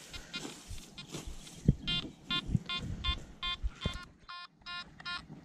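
A Makro Multi Kruzer metal detector in woodland over old trenches gives a regular series of short, bright, pulsing beeps that repeat steadily, along with rustling and scraping at the start.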